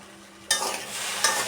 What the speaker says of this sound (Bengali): নেড়ে চেড়ে ভাজি করে ফেলবো।